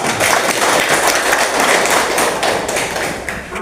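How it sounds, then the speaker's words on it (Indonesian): Applause in a classroom, with students clapping together in a dense burst of claps that carries on steadily for a few seconds at close range. "Tepuk tangan."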